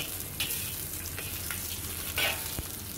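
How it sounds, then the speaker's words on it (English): Ginger sautéing in a very hot wok with a little oil, giving a steady low sizzle with a few sharper crackles and spits, close and alone with no talk. "Then saute your ginger."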